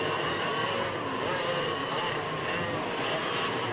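Club race cars at Whiteland Raceway Park heading toward the start-finish straight, a steady blended engine drone at moderate distance with a commentator talking over it throughout.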